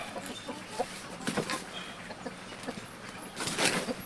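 Hens cluck in short, scattered bursts, some nearby and others farther off, over a constant farmyard background.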